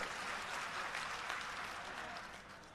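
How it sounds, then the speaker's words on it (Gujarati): Applause from a crowd at a political speech gathering for the police on duty, a dense, even wash of clapping that continues throughout and fades slightly toward the end. "એમની માટે સૌ પ્રથમ તો એકવાર જોરદાર તાળીઓ થઈ જાય મિત્રો"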